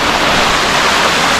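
The Bluefields River in Westmoreland flows as a loud, dense rush of broadband water noise, steady and close with no voices over it.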